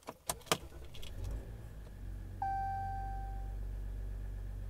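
Ram EcoDiesel pickup at about 82,000 miles, heard from inside the cab: a few key jangles and a chime, then the diesel engine cranks and settles into a steady low idle rumble.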